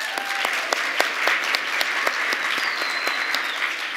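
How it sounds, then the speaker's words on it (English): Audience applause at a leadership organization's 35th anniversary celebration, honoring a graduating class: steady, dense clapping from a crowd, sustained evenly throughout with no voices over it. "let's give a round of applause to our current Class 35."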